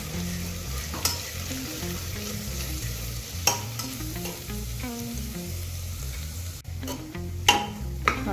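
Golden onion, tomato and ground masala paste stir-fry in a pan for Maharashtrian pea rice, a continuous sizzle under repeated stirring scrapes and a few sharp spoon taps, with no talking.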